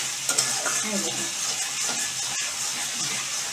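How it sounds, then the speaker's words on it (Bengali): Tomatoes fry in a pan for a home-style fish roe curry, with a steady, close hiss of sizzling oil and soft scraping as a spoon stirs them. "টমেটো আমার সুন্দর করে ভাজা হয়ে যাচ্ছে।"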